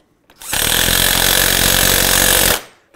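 An 18-volt cordless impact driver drives a Torx self-tapping screw into a snowmobile suspension's Hyfax slide, a loud, continuous rattling hammer lasting about two seconds, close up, starting and stopping abruptly.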